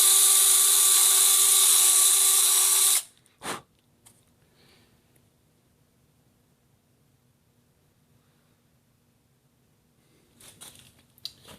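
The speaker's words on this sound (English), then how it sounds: "I would highly recommend a sharper drill bit than I used there" A hand drill bores through the metal top of a Kawasaki Vulcan 800 carburetor with a dull bit, a loud steady whine for about three seconds that cuts off abruptly, followed by a brief knock and near silence.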